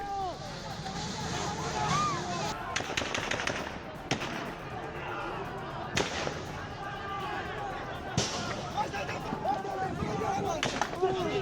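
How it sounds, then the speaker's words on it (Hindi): Sharp cracks of gunfire from security forces firing on protesters in Shiraz, Iran, ring out intermittently over a noisy crowd with shouting voices, some bursts louder and closer than others. "विद्रोह की आवाज को कुचलने के लिए खामेनेई की फोर्स प्रदर्शनकारियों पर सीधे गोली चला रही है।"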